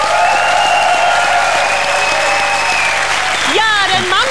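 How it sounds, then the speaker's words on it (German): A German TV studio audience applauds keyboard entertainer Mambo Kurt in 1999, a continuous wash of clapping with ringing synth or organ tones and sliding pitch sweeps near the end. "Aber erstmal einen riesigen Applaus für unseren Mambo Kurt."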